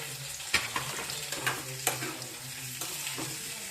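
Eggplant and tamarind fry in a spoonful of oil in a pan, a steady close sizzle broken by a few sharp stirring clinks and scrapes, with no voices.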